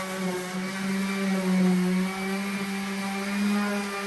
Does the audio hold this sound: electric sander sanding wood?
yes